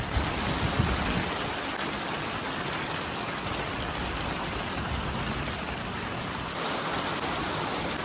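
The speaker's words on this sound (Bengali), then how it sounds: "বৃষ্টিতেও তো অতিরিক্ত পরিমাণে পড়তেছে" Heavy rain falls in an outdoor Italian setting, a dense, steady wash of hiss and patter that holds evenly throughout with no voices.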